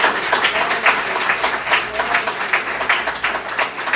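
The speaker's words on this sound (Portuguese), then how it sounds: "Eu queria que você desse uma salva de palmas ao Senhor." A church congregation claps and applauds together in a sustained, loud burst of rapid, overlapping hand claps that fills the room without letting up.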